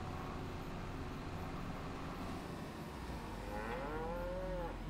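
Cows mooing in a shed barn in Farming Simulator 25, a faint, low drawn-out moo rising near the end over a quiet background hum.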